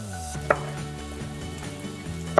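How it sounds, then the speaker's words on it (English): Knife quartering tomatoes on a board while something sizzles in a pan, with two sharp chopping knocks about two seconds apart over a steady background hum. "I'm just going to cut them into quarters quickly"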